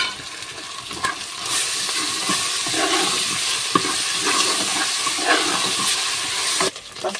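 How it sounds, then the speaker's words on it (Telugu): Ginger and garlic dropped into a hot pan for a pea fry, sizzling loudly with a bright steady hiss and occasional crackles and stirring scrapes, close and continuous. "అల్లం వెల్లుల్లి వేస్తున్నాను."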